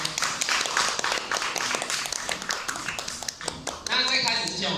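An audience claps in encouragement for a guest speaker at a talk about travelling through Latin America and Africa, with steady dense applause that swells and ends in a brighter burst.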